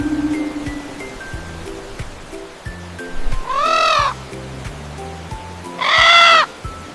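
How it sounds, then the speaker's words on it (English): Two loud, harsh squawking calls from a parrot sound close up, each lasting about half a second, over quiet background music. "Yes, it's a parrot. And the parrot says,"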